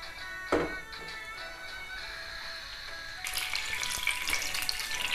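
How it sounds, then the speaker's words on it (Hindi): Oil heats in a pan on a gas stove while making aloo gobhi sabzi, a faint, steady sizzle that grows noticeably louder and busier about halfway through. "और इसमें ऑयल डालेंगे 3 टीस्पून। अब इसको भी हम गर्म होने लेने देते हैं।"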